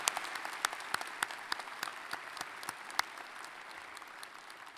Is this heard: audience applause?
yes